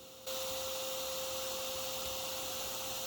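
A vacuum cleaner runs steadily while sucking up European hornets returning from foraging at a large nest inside a tree, a constant loud whine and hiss that starts after a brief quieter moment and continues without break.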